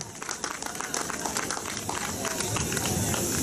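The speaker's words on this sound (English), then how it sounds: "So give everybody a round of applause, even yourselves." Audience at an overdose awareness event at a recovery resource center breaks into a sustained round of applause, dense crowd clapping that fills the space steadily and grows slightly louder toward the end.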